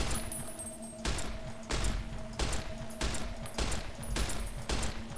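Gunfire in the Warhammer 40k New Vegas video game sounds as a rapid series of about seven loud, evenly spaced shots over a constant hum of background game audio.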